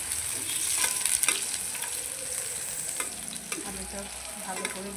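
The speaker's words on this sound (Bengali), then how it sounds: "আলুটা ভালো করে ভেজে নেব।" Potatoes frying in spices in a pan, giving a bright steady sizzle with intermittent scraping stirs, close and continuous with no voices.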